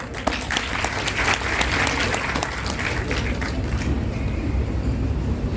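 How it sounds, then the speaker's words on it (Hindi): A kavi sammelan audience at an Ayurvedic college breaks into loud, sustained applause welcoming a poet, the dense clapping filling the hall before tapering slightly toward the end. "जोरदार तालियों से आप लोग स्वागत करें भाई पुष्पेन पुष्प"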